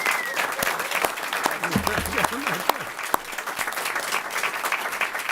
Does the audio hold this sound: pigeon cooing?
no